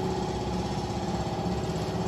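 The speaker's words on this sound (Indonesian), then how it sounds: "Mesin engine-nya" Honda engine idling, a steady low mechanical rumble with an even, continuous throb, close and fairly loud with no talking.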